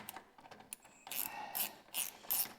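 Ratchet driver backing out Torx 27 screws from a tail light, a few light clicks followed by rapid, loud ratcheting bursts up close, no talking.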